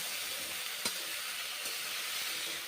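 Cauliflower and mushrooms fry in a pan with a steady, close hissing sizzle, broken by a couple of sharp clicks from stirring.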